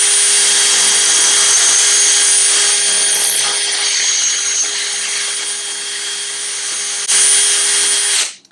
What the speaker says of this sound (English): So I'm gonna go ahead and start drilling.